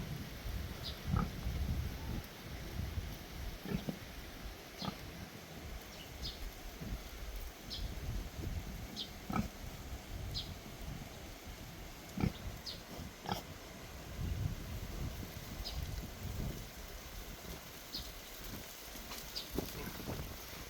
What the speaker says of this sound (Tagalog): Yan po ang kagandahan pag free range yung baboy natin. Makatakbo-takbo sila.